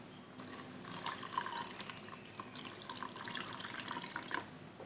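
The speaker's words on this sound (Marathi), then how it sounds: "आपण जेवढा पल्प घेतलेला आहे साधारण त्याच्यात तिप्पट ह्याच्यामध्ये पाणी घालू शकतो" Water poured into mango pulp in the kitchen for homemade Frooti, a soft continuous pour with light splashing and trickling, fairly quiet and steady throughout, no voices.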